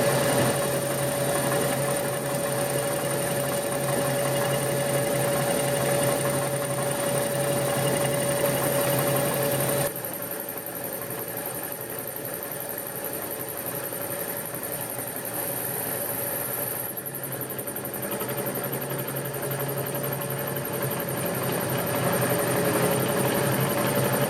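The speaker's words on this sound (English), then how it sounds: "I'm going to run it over with my face mill." A milling machine's face mill takes a finishing pass across a slotter table, giving off a steady, continuous mechanical drone with a constant tonal hum, fairly loud and unbroken throughout with a slight drop in level midway, and no speech.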